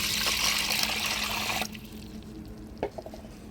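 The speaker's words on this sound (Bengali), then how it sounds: "জল দিই।" Water pours into a cooking pot for pomfret fish, a steady close splashing rush that cuts off, followed by a few small clinks and knocks.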